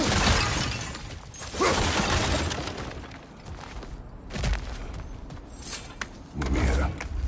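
Objects smash and shatter in God of War Ragnarok, with repeated crunching impacts and breaking debris at close range, several loud bursts spread across the stretch with softer rumbling between them.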